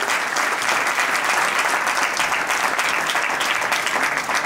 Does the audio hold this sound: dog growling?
no